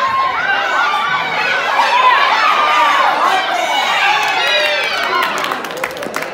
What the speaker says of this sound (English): The applause means we got one.